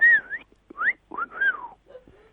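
A person whistles in imitation of a cockatiel, producing a few bright rising and falling whistled phrases with short pauses between them, close and clear with no other sound.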